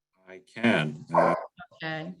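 A dog barks in the room during a video call, giving a few loud, close barks mixed with brief speech.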